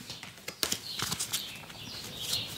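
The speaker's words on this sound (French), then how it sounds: "en plus on entend les petits oiseaux." Small birds chirp and twitter outdoors on a fine, warm spring day, heard faintly through open windows as scattered high, light calls over a soft background hush.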